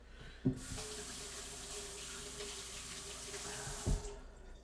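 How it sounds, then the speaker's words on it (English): Hands are washed under a running kitchen tap: a steady, moderately loud rush of water pours for about three and a half seconds, framed by thumps of the handle being turned on and off. "I'm gonna wash my hands real quick."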